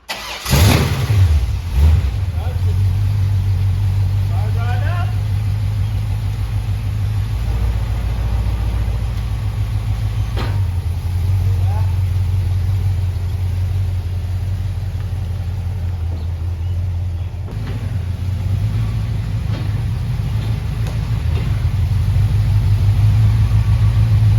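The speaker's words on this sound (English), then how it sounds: "We're going to pull it in there and get it on the lift and jack it up." Rat rod car engine idling steadily as it is pulled into a barn, a loud, close, continuous low rumble that holds even for the whole stretch, starting with a brief burst and lifting slightly near the end, with no talk.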